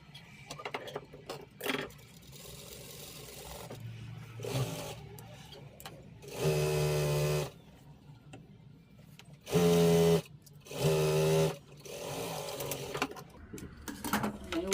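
Sewing machine stitching a dress lining, running in several short loud bursts of rapid mechanical whirring separated by pauses filled with quieter shop sounds.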